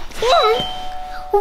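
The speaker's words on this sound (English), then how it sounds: "That is the doorbell." A two-tone doorbell chimes indoors, ringing clearly with a lingering tail, while a voice speaks briefly over it.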